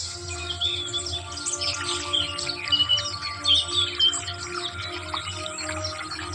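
Birds chirp and tweet in a rural field under darkening skies before a storm, overlapping calls at moderate distance over a steady background hum, with no talking.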